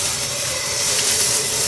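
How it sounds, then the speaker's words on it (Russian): Water at a vigorous rolling boil on a Zhiga-3 stove, a steady broadband hiss and rumble of bubbling heard alone and fairly loud throughout. "Все, вода закипела. Бурное кипение."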